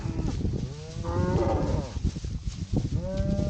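A lead cow in heat on a farm gives a close, loud moo followed by a shorter second call, heard alone without talk.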